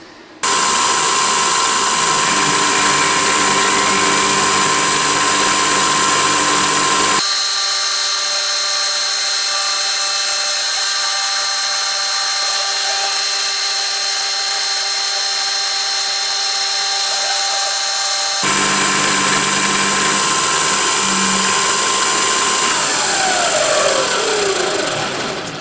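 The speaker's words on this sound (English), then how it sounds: "it's actually a wood chamfering bit, for a router chamfering bit. Tungsten carbide, brand new. I'm hoping this will cut this okay." A router fitted with a brand-new tungsten carbide chamfering bit runs loud and steady at a high whine. Its tone drops as the cut changes midway, then rises again near the end.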